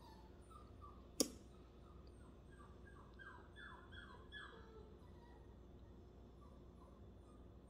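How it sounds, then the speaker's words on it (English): A dog whines in another room, a series of faint, high, wavering whimpers rising and falling in short bursts, muffled and distant, with one sharp click early on. "that dog in there is getting on my nerve"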